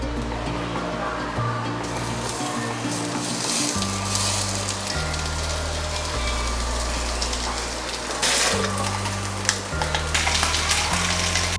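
Flour-coated fish fries in oil in a wok, giving a steady, dense sizzle that runs throughout beneath a sustained low tonal background.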